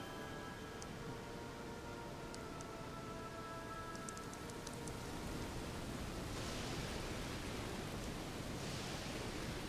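Blood rain falling in the Ninja Gaiden Σ2 video game, a steady hiss of rainfall that grows denser and louder partway through, with faint tonal game sounds fading out early on.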